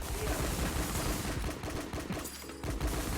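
Rapid gunshots in a shooter game crack out in fast, repeated bursts over a dense, loud battle din, the firing thinning briefly before resuming.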